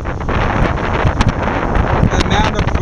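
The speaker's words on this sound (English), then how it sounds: "The amount of wind force that's coming through here, you can see the camera can't even focus." Strong south-easterly wind at the St Lucia estuary buffets the microphone in a loud, continuous roar with gusty swells, over faint background rustle.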